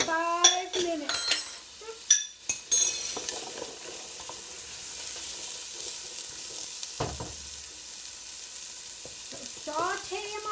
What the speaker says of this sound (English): And we're going to stir these for about 5 minutes.